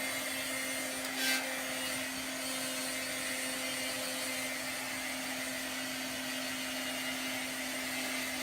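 A heat tool blowing a steady whirring stream of air to dry chalk paste on a craft project, constant and unchanging for the whole stretch with no talk.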